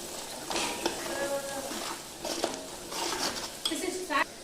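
Chicken being stirred with spices in a metal bowl for green chicken sukkha, giving scattered scraping and clinking strokes with a light sizzle-like rustle, fairly quiet and close, no talking.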